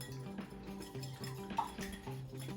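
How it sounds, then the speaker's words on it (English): Eggs seasoned with a pinch of salt and pepper being whisked in a bowl, a quick run of light clinks and scrapes against the bowl, steady and close, over faint background music. "I want you to whisk these eggs"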